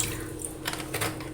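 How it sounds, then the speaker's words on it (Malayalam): Tap water runs steadily into a sink as sardines are washed with added vinegar, a close, continuous splashing rush lasting about a second. "ഇനി ഞാൻ കുറച്ചും കൂടി വെള്ളം ഒഴിച്ച് കുറച്ച് വിനീഗറും കൂടി ഒഴിച്ചിട്ട്"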